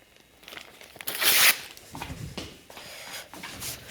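Close, dry paper tearing and crinkling as sheets are ripped up for waste paper recycling, with one loud long rip followed by softer crumpling and short tears, quiet overall.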